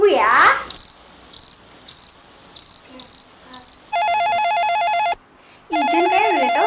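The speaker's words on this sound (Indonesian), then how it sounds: "kayaknya udah ada telepon nih" Several short chirping trills sound in quick succession, followed by two longer steady electronic ringing bursts of an incoming telephone call, with brief voice-like sounds at the start and end.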